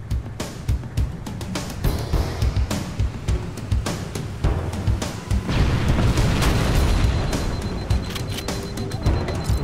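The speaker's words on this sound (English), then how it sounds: "The fusion drives detonate." Fusion drive engines detonate in the Halo CE level The Maw: a dense, loud barrage of booming blasts and sharp cracks fired off in rapid succession, building into a continuous roar of explosions.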